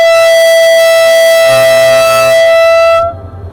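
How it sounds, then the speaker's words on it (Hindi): Marvi Passenger train in the Thar Desert sounds a long, steady, loud horn that holds for about three seconds before cutting off, leaving a low rumble of the moving train. "तो हम भी जाके ट्रेन में सवार होते हैं और सफ़र का आगाज़ करते हैं।"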